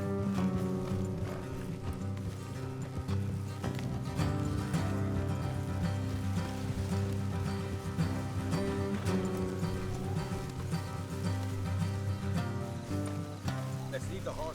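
Horses gallop in Red Dead Redemption 2 with rhythmic hoof clip-clop running steadily under a continuous layer of game music and ambience.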